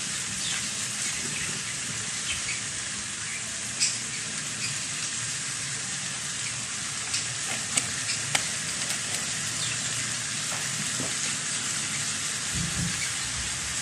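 Adobo of Baguio beans and kamote being stirred in a pan with soy sauce, a steady close sizzle and frying hiss throughout with a few soft scrapes and clinks of the stirring utensil.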